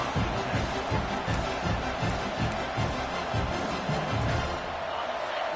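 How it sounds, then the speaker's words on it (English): A large stadium crowd at an American football game roars steadily, a dense wall of noise with rhythmic low thumps, like stamping or chanting, underneath. "Listen to this crowd just shaking the girders of this place, trying to help their defense."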